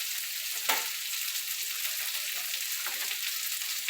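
Chicken sears in a hot pan with a steady, close, bright sizzle that hisses evenly throughout, broken only by a couple of faint pops and crackles.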